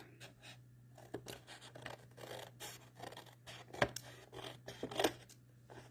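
Scissors snip and scrape through paper in a series of short, close cuts, with a steady low hum in the background and no talking.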